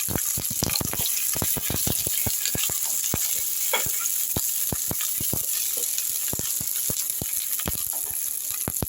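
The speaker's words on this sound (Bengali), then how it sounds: "এবার ওই কড়াইয়ের মধ্যে আমি দিয়ে দিচ্ছি একটু গরম তেলের মধ্যে। এবার বেগুনগুলো আমি ওইভাবে ভেজে তুলে দেবো।" Long-sliced eggplant fries in hot oil in a wok, a dense continuous sizzle studded with rapid sharp pops and crackles throughout, close and steady.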